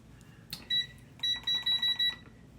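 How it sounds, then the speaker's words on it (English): A kitchen timer being set beside an oven sounds a run of short, bright electronic beeps, one then a quick cluster of four or five, crisp and close in a quiet room. "I'm going to set my timer here."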